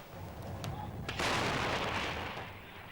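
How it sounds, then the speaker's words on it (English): Artillery firing on Israel's northern border in an exchange with Hezbollah militia, a broad rumbling boom of gunfire that swells after the first second and rolls on at a distance. "Israeli artillery exchanging fire with Syrian-backed Hezbollah militia on Israel's northern border"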